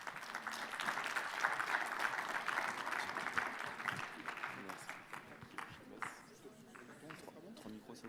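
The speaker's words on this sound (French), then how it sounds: "Vous pouvez les applaudir" Audience applause welcomes a panel of speakers at a French congress forum, steady clapping that fades gradually over several seconds, with voices murmuring underneath.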